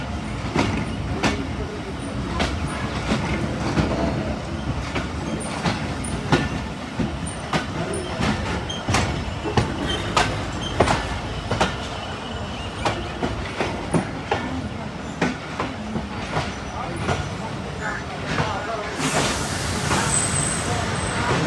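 The newly privatised Chenab Express runs between Sargodha and Mandi Bahauddin, its carriages rattling with steady rhythmic clickety-clack and repeated sharp knocks over the rails, with a hiss toward the end and faint voices in the background.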